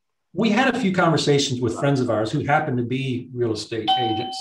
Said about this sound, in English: Excuse me, that's the doorbell.